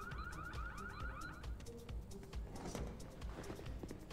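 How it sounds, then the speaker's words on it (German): A car alarm goes off in Need for Speed Unbound, with a fast repeating warbling chirp for about a second and a half, followed by clattering and rustling shop noise. "du hast den Alarm ausgelöst"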